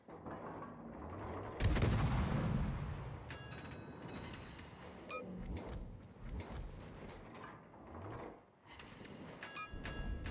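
Heavy naval guns of the British heavy cruiser HMS Hawkins in World of Warships: a loud broadband boom around two seconds rolls into a long rumble, with later sharper reports and mechanical clanks over a steady game background.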